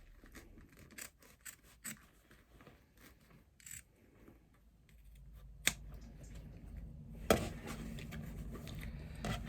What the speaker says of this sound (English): So we're now going to trim out all the foam.